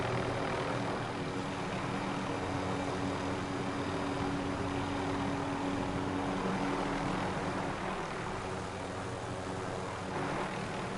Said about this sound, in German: der Rest ist nur Helikopter